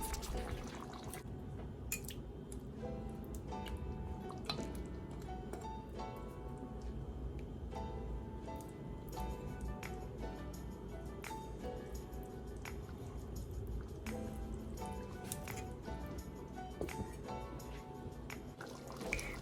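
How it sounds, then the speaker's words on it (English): Butter beans simmer in a pot of Jamaican-style brown stew pork, giving a steady, quiet bubbling with soft pops and drips that runs evenly throughout, no voices. "allow my beans to cook and get softer before turning off my pot"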